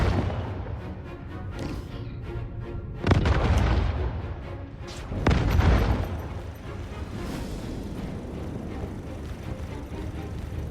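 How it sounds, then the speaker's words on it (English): Spaceship ballistic guns and cannons fire in the Star Citizen video game, a steady rumbling barrage broken by two heavy booming bursts near three and five and a half seconds, with no talking. "I'm using a mixture of ballistics and cannons."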